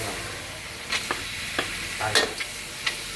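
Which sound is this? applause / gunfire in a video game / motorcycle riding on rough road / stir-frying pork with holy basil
stir-frying pork with holy basil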